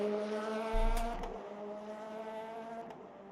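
A race car engine drones steadily at a high, even pitch in a Le Mans racing video game, with a brief rumble and faint clicks passing early on.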